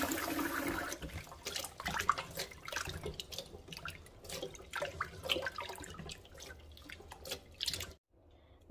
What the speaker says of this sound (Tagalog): Hugasan na po muna natin yung ating malagkit.